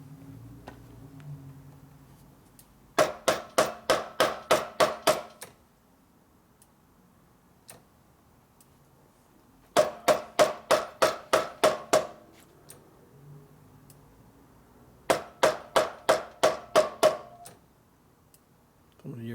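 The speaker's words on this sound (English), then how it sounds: "hit it with a hammer" Three bursts of rapid, evenly spaced metallic strikes, about seven blows each, ringing sharply with short pauses between, over faint background noise.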